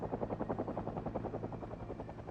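Helicopter in the video game Project Zomboid, a steady rapid rotor thump with a low engine drone, loud and continuous throughout with no voices.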